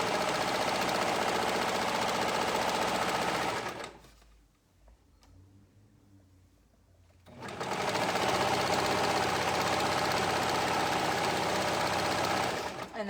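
Sewing machine running fast and loud along a shirt sleeve and side seam, a dense steady whir that stops for a few quiet seconds, then resumes and runs to the end.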